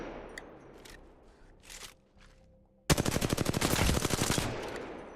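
Rapid automatic weapon fire in the Apex Legends video game, a sustained loud burst of evenly spaced shots after a few quieter footsteps and movement sounds while strafing.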